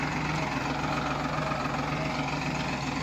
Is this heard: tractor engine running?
yes